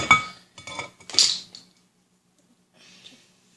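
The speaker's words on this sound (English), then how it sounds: "Here's your pastry cutter, Shuggy. Cut in that lard." A pastry cutter working lard into flour in a bowl for tortillas, a few close metallic clinks and scrapes in short bursts, then quiet with one faint last scrape.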